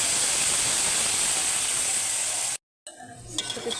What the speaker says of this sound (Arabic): ننزل بعصير الطماطم